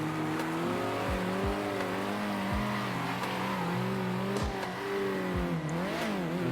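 A race car engine in the Circuit Superstars video game drones loudly and steadily, its pitch climbing and dropping as the car revs through gear changes, with no talk.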